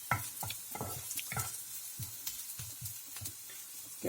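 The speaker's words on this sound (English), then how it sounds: "So now that my garlic's starting to sizzle away," Garlic sizzles steadily and close up in a hot pan for a Bangladeshi pointed gourd bhaji, with rhythmic stirring scrapes cutting through the constant hiss.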